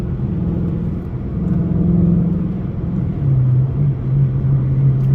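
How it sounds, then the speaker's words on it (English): Dodge Challenger R/T engine and intake droning steadily from inside the car while driving, a low continuous rumble that swells slightly partway through, with no talking. "Can y'all hear my intake?"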